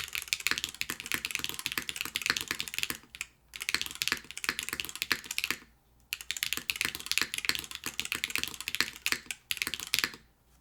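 Fast, steady typing on a Tofu65 3.0 mechanical keyboard fills several bursts of clacky keystrokes, with short pauses between runs, close up and moderately quiet.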